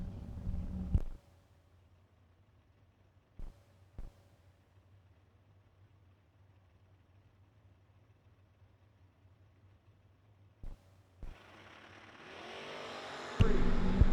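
A Chevy Camaro at a drag strip during the Million Dollar Race: a low idle rumble broken by a few sharp clicks, then a loud engine roar surges in over the last few seconds as the car launches.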